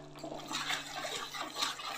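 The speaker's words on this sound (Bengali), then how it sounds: "মশলার বাটি ধুয়ে যে জলটা আছে সেটাও অল্প অল্প করে মিশিয়ে দেবো।" Water from rinsing a spice bowl is poured in small amounts into masala cooking with eggplant, making a brief, soft, faint splashing and trickling.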